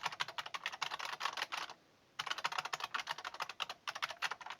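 Quick bursts of typing on an old AT-plug mechanical keyboard, crisp close keystrokes with a short pause near the middle, fairly quiet and without talk.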